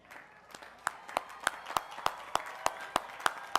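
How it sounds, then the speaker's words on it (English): At a hospitality college commencement, a few nearby hands clap in a sharp, evenly spaced rhythm, about three claps per second, over a faint background of wider applause. "ask them to stand for a well-deserved round of applause from the class of 2011"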